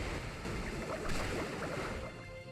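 A rushing, surging water attack from a Pokémon battle, a continuous wave-like whoosh swelling and fading over a few seconds, fairly quiet and heard alone.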